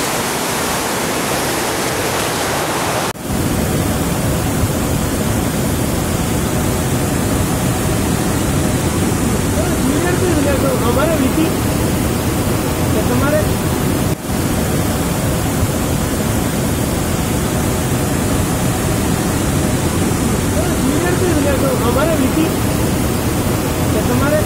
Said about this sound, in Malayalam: ഇതാണ് പുഴ, നല്ല സ്റ്റൈലുള്ള പുഴയാണ്.